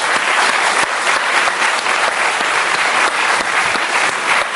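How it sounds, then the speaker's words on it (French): A television studio audience applauds a martial arts coach, dense, steady clapping that fills the space evenly from start to finish with no voices over it. "Je vous demande de l'applaudir."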